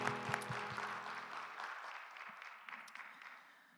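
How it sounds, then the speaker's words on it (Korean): Applause from a church congregation at a Sunday young-adults service rises at once and keeps a steady, full clatter, then slowly thins and fades out, with soft music underneath at the start. "박수로 서로를 격려하겠습니다."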